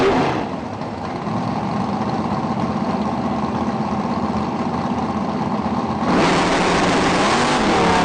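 Drag racing cars, including a Camaro, launch at an IHRA drag strip in the Piedmont region with a loud, sustained engine roar that holds steady before rising sharply near the end.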